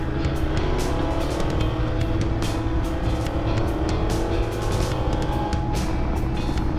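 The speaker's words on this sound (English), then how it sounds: "I just want to hear the sound of my Ducati" A Ducati motorcycle running on the road: a loud, continuous engine roar with a rising, gear-stepping pitch and rough ticking texture, close to the listener, with no voices.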